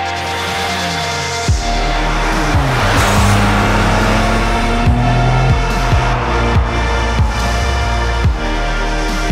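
A Porsche 959S supercar from the mid-80s with a 2.8-liter flat-six engine revs loud and close, climbing and dropping through gear changes with sharp shifts and a brief tire squeal.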